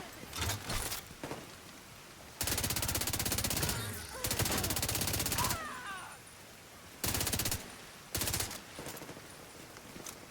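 Pistol gunfire in the Dune video game, loud rapid bursts of shots in several separate volleys with short quiet gaps between them, a voice briefly heard among the shooting.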